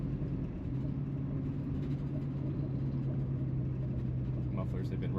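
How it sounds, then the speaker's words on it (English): A classic Mustang's custom exhaust, whose mufflers are rusted through with holes, gives a steady, close, low rumble while someone talks over it. "Hear that custom exhaust that's brought to you by Rust in the mufflers."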